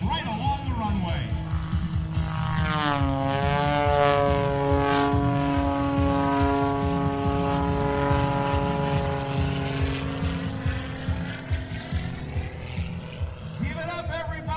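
Jet aircraft at the 2018 Blue Angels Homecoming air show pulling a cobra maneuver, a loud roaring engine with a sweeping tone that rises and falls, heard over an announcer talking on the public address.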